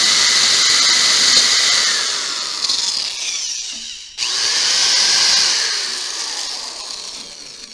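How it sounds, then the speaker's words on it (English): A power drill whines at high speed, bogs down and stops briefly, then starts again and winds down, drilling a hole into a fiberglass pole with no talking. "We're going to drill one hole right here."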